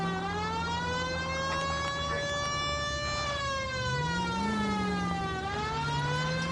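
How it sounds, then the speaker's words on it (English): Police car sirens from the LA Noire video game wail continuously, loud and near, their pitch rising and falling in long sweeps. "Y'all don't pull over for sirens back in the day?"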